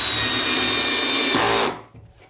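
A Bosch power drill drives a screw to fix a nest box onto a chicken coop, a loud close steady whine lasting about a second and a half before cutting off abruptly.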